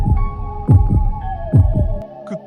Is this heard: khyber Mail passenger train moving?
no